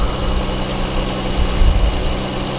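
A Toyota 2JZ-swapped Nissan 350Z idles steadily during ignition timing adjustment, a loud, close, even engine drone with a slight low-end swell toward the end and no talking.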